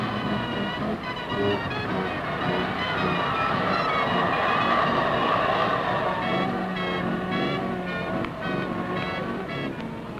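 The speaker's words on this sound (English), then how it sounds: "When the tram had come to a halt" A 1970s Amsterdam tram braking to a halt at a stop, with a steady loud rumble of wheels on rails and rising metallic squeal tones throughout.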